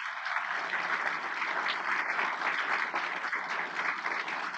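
An audience claps steadily at an event honouring an economic development organization's leadership, a dense sustained round of applause, fairly loud and close, with no voices on top.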